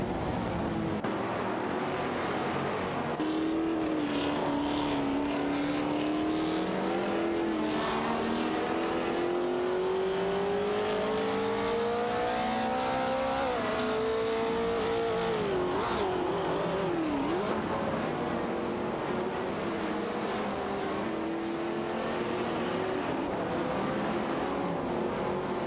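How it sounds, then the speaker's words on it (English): Race car engines in an AI racing video game roar continuously, one car's pitch rising and falling as it accelerates and shifts, with other cars droning close behind, loud throughout. "Waziri's Guy in the Chinook MK2 closely following N29 Kia in the Cooper Type 61 Monaco"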